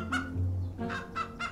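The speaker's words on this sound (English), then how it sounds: "To start off with, we've got this hefty-looking chicken!" A hefty chicken in a Fortnite short film clucks close and clearly in a quick run of about three or four honking calls, with no talk over it.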